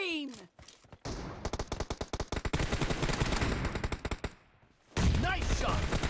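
Rapid bursts of automatic gunfire crackle in a team deathmatch shooter game, loud and close, with a dense volley, a short lull, then another sharp burst.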